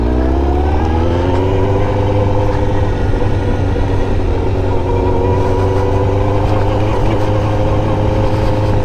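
A 2002 Suzuki GSX-R motorcycle engine idles steadily and loudly up close at a gas station, a constant throbbing drone with a slight pitch rise early on.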